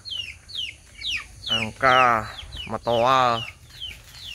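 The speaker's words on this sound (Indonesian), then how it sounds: "ayam lagi bertelur" Chickens in a home yard give repeated clucks and short squawks near a hen laying eggs, and one bird lets out long, loud drawn-out calls between them.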